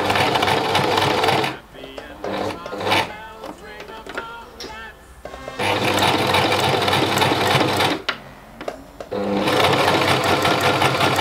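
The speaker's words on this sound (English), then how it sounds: "I usually start by hand rolling the first few stitches to ensure the thread does not get caught or the fabric doesn't get eaten up by the machine." A sewing machine stitches fabric panels for a vintage 1960s doll garment in fast, loud whirring runs that stop and restart, with softer handling sounds between bursts.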